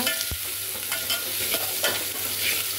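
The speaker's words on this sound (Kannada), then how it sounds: "ನಂತರ ಈರುಳ್ಳಿ. ಚೆನ್ನಾಗಿ ಫ್ರೈ ಮಾಡ್ಕೊಳ್ಳೋಣ." Onions frying in hot oil with mustard seeds, a steady soft sizzle with scraping stirring strokes and one sharp clack of a utensil near the start, fairly quiet and close with no talking.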